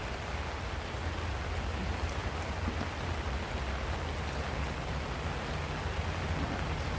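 Pouring rain falls outdoors in a dense, even hiss that holds steady and unbroken throughout.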